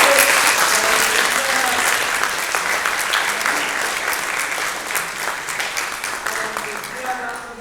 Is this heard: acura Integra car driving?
no